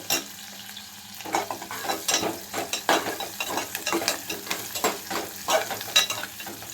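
Dried fish and raw mango curry ingredients frying in a pan, a steady close sizzle with repeated scraping stir strokes and clinks, no voices.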